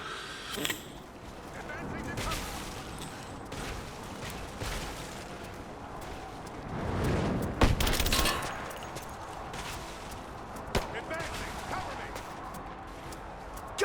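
Enemy gunfire in the video game Rise of the Tomb Raider, a dense fusillade of shots and impacts running throughout with louder bursts near the middle, under a busy combat mix.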